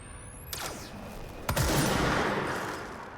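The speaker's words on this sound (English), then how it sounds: "swap the damage types to pierce and charge, which turns it into a grenade launcher that shoots like magic triangles" In the video game Control, the Service Weapon in grenade-launcher form fires with sharp bursts, a quick crack followed by a louder blast that swells into a lingering roar and slowly fades.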